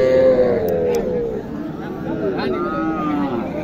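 A bull calf moos at the traditional Dighirhat cattle market in Naogaon, its long, falling low call close and loud over a bed of crowd chatter and murmur.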